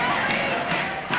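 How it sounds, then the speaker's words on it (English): High school basketball cheering sections shouting back and forth at each other on a home court, a dense roar of massed voices filling a short burst with no break. "the two cheering sections for the respective schools are shouting back and forth at each other"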